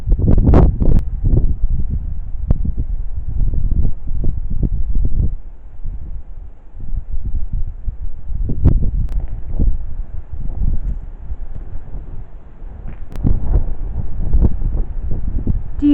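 Strong wind buffets the microphone outside the ruined St Mary's church at Clophill, a steady low rumble with repeated louder gusts throughout and no talking.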